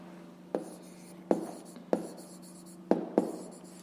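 Handwriting on paper while working a fifth-grade maths exercise, a few sharp pen strokes and taps spaced unevenly over a steady low hum, close and fairly quiet, with no talking.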